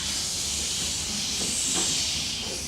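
Performers at a village pantomime use their voices to imitate steam train hissing, a continuous loud breathy hiss with small puffs over a noisy hall.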